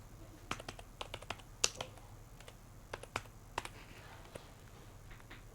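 Computer keyboard being typed on while writing a Python program, with sparse, distinct key clicks in short irregular bursts, close but quiet.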